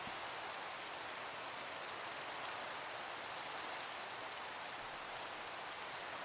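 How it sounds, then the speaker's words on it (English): Steady, dense rain hiss in a video game fills the whole stretch, even and unbroken, like a downpour on surfaces with no voices. "Why does the rain keep doing that?"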